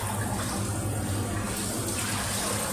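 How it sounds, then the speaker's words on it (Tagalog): Steady rushing of hot water being poured, a continuous splashing hiss with a low gurgling undertone, close by and without a break. "lagyan muna natin ng mainit na tubig"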